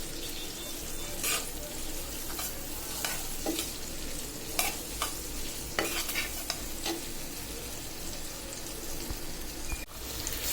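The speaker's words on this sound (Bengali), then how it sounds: "আর পেঁয়াজ রসুন কাঁচামরিচ ভাজা হয়ে আসছে।" Onion, garlic and green chili fry in a pan with a steady, soft sizzle, broken by scattered scrapes and clicks of stirring throughout, with no voices.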